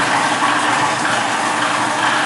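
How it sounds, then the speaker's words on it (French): A food processor chops salmon and cod into a fine mince, a loud, steady whirring motor grind that runs without a break. "Je vais donner un petit coup de pulse pour broyer un petit peu et avoir quelque chose de plus fin"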